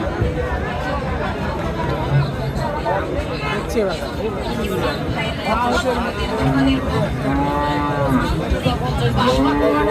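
Cattle moo repeatedly, long low calls rising over a dense crowd of people talking and bustling throughout, at a busy dairy cow market in Sonaichandi, Chapainawabganj, Bangladesh.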